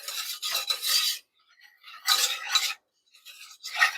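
Roux for mac and cheese being stirred in a pan: three bursts of close, rasping scraping strokes separated by short quiet gaps.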